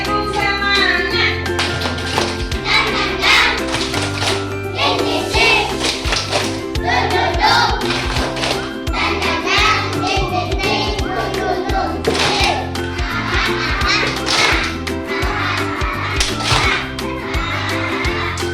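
Kindergarten children perform a rhythmic tepuk semangat spirit clap, with quick patterned hand claps and taps over a steady musical backing and young voices chiming in.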